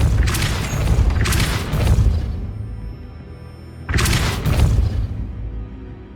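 Depulso spell effect in the Hogwarts Legacy video game: heavy, booming blasts with crashing, shattering tails, repeated in three big surges with quieter rumbling between them and no speech.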